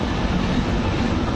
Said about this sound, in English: it's faster train, intercity